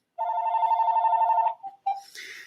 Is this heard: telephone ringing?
yes